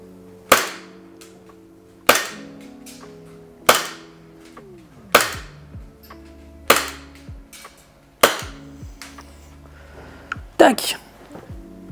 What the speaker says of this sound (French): effectuer un test de tir sur une cible